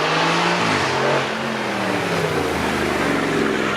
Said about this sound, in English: 4 litre V8 with 2 turbos. Get ready for the noise.